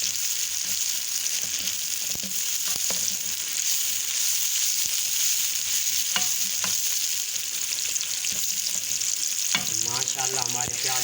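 Onions browning in oil in a karahi sizzle steadily and loudly up close, broken by sharp stirring clinks and scrapes, with a brief voice near the end.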